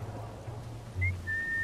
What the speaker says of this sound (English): Hindsight, I shouldn't have whistled.